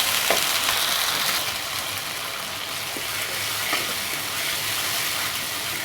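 A tomato sauce mix fries in a pan for a Bangladeshi-style Chinese prawn and vegetable dish: a continuous hissing sizzle close by, with faint stirring scrapes now and then and no speech.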